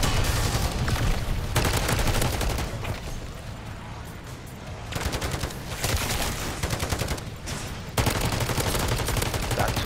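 Two sentry turrets mounted on the back of a vehicle in Call of Duty MWZ zombies mode fire sustained, loud automatic bursts, dense and continuous with brief dips, amid heavy gunfire and explosions.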